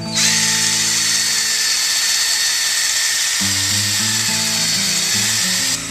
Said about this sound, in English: now we're going to start to drop our cellophyll in and continue to mix it to turn into a nice slurry